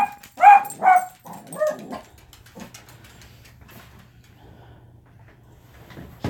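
Dogs barking indoors, two or three sharp barks in quick succession at the start, then quieter yips and snorts fading into a low hum.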